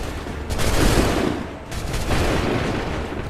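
Musket volleys crack out in Assassin's Creed III, two sustained bursts of massed gunfire roughly a second apart, loud and dense with rumbling low end, no voices heard.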